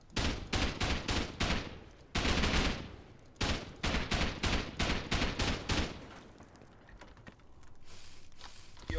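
Bursts of rapid automatic fire from a Thompson gun in a video game raid, several loud staccato volleys with short gaps, trailing off into quieter clicking at the end.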